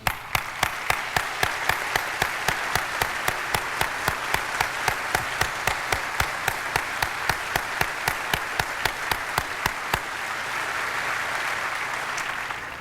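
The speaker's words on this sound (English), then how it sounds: "we applaud you this morning for everything that you've done." At the CIA's 50th anniversary ceremony, an audience gives sustained applause with a steady, rhythmic beat of claps that runs for about ten seconds before fading into a quieter wash.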